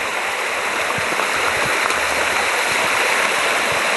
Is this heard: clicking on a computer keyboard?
no